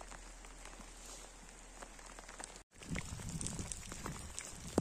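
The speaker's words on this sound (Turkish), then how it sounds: "Yağmur hızlandı maşallah, çok güzel yağıyor." Rain falling steadily in a rural village garden, a dense patter of drops on surfaces with scattered louder taps, briefly cut before resuming heavier.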